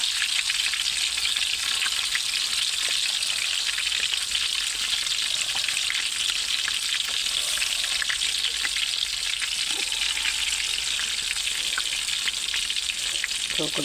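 Pieces of katla fish fry in hot oil, a loud continuous crackling sizzle that holds steady and close throughout, with occasional faint stirring touches.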